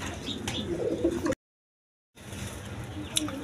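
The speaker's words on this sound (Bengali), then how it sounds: "এখানে এক পেয়ার কবুতর আছে মিলি কালারের রেসার কবুতর" Racer pigeons of mixed color coo in short bursts, close by, with a brief gap of silence midway and a faint chirp near the end.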